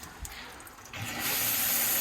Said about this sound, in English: Here's a shower. I can do a demonstration quickly here.